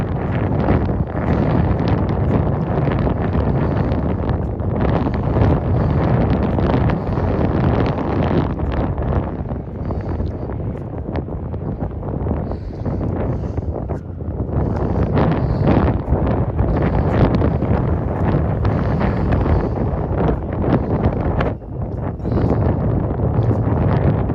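Strong wind blasting across the mic, a steady low rumble with rustling gusts rising and falling, no talking.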